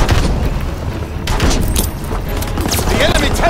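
In the video game Call of Duty WWII, gunfire aimed at infantry near a tank rattles in dense volleys mixed with deep booms, under a battlefield voice.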